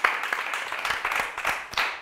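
A studio audience on a Catalan TV spelling quiz show applauds a contestant, giving a brisk, steady patter of many hands clapping at moderate volume.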